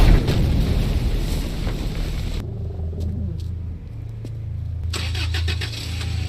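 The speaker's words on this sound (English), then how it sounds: "Snake, do you know how loud a car engine is?" An idling car engine in Metal Gear Solid V: The Phantom Pain, a steady low purr and rumble that runs under brief game sound effects, with a louder burst of activity at the start and end.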